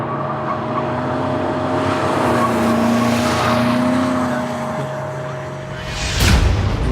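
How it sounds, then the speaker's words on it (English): A BMW drifting gives a loud, sustained engine roar with shifting pitch and tire noise, then a sharp surge near the end. "We have commenced drifting."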